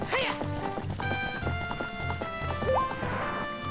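Horse hooves clip-clop in The Legend of Zelda: Ocarina of Time, a steady run of hoofbeats amid game music, loud and close with no talk over them.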